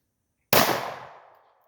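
A single sharp, loud gunshot cracks at an outdoor shooting range, with a fast attack and about a second of decaying echo, preceded by silence.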